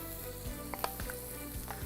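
Chicken pieces sizzle in a hot, dry pan with no oil, a soft continuous crackle broken by a few sharper pops, fairly quiet and heard alone.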